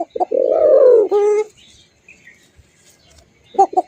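Pigeons, kept fancy birds offered for sale, coo close by in a deep throaty roll, one long warbling call followed by a shorter one, with a faint chirp and a brief coo returning at the end, no talk over them.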